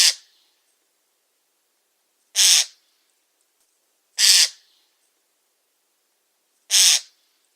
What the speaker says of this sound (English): Jays are more often heard than seen with their harsh and grating screech.